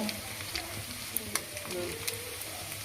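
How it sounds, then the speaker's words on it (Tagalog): Chicken skin frying in its own rendered fat, a dense continuous sizzle and crackle with occasional sharp pops, close and steady, with voices in the background. "tsaka mo yan prituhin sa mantika niyang sarili"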